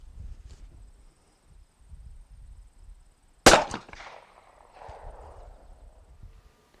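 A single loud gunshot from a pistol fitted with a shoulder stock and fired like a carbine, a sharp crack with a brief decaying echo amid quiet outdoor rustling.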